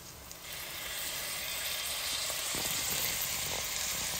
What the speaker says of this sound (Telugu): అందుకోసం ఇప్పుడు ఇంకా మటన్ వేసేస్తున్నాం